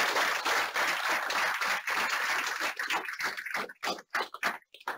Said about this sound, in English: Let's give Lori a big round of applause.